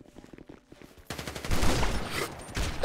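Gunshots in GTA 5 RP: a quiet patch with faint sounds gives way to a loud, dense burst of gunfire that carries on to the end.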